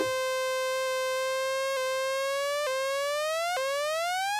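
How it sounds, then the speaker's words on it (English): Sustained Spectrasonics Omnisphere synth note, a pure steady tone that begins without modulation and then gradually takes on a rising, wavering pitch sweep as a delayed LFO ramps in, alone and clean. "can you hear it starts off with absolutely no LFO at all, and then it gradually ramps it up"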